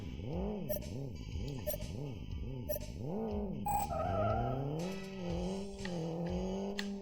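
Car engine in an Android driving video game, repeatedly revving up and down in a looping rhythm, then holding a steadier drone with brief squealing bursts.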